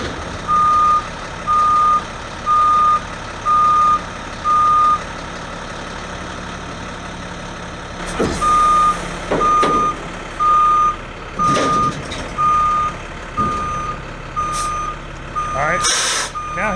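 Steady reversing beeps sound from a pickup truck backing under a snow plow and V-box spreader during installation, while an engine idles beneath. Halfway through, the beeps continue under louder clanks and knocks.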